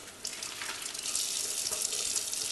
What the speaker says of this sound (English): Just make sure there's no dirt inside and just give it a quick wash.